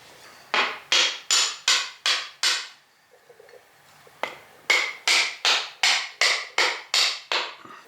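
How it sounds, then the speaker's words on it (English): A wooden mallet drives a Damascus steel blade socket up its tang, sharp ringing blows in a steady rhythm, a burst of six, a short pause with faint clinks, then about nine more close and loud. "I'm just going to keep driving it up the tang with a wooden mallet, little by little"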